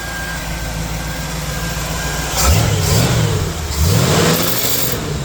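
A 1964 Chevy C10 Stepside pickup engine runs steadily with the hood open, revving up twice with rising and falling pitch before settling back to a rough, vibrating idle.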